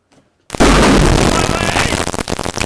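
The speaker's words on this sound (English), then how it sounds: "just listen to this thud" A thick 200-page printed document is dropped, and after brief silence a sudden heavy thud hits loudly, followed by a rough, fading rumble of noise.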